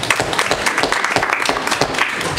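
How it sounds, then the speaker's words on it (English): A small room of attendees at an education and culture committee meeting claps for a tribal member and state representative candidate, with distinct individual claps forming a lively, uneven patter close by. "just give him an applause here"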